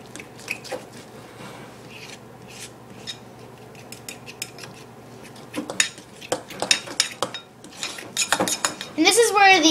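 A spoon stirs baking powder and flour into coffee-cake batter in a mug, with irregular clinks and scrapes against the mug that grow louder and busier toward the end, over a low background hum.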